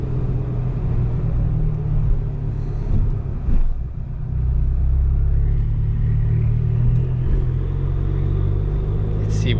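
An Abarth 595 turbo hatchback's engine rumbles steadily from inside the cabin while cruising, a constant low drone that dips briefly and then resumes with a slight rise in pitch as it pulls along the road.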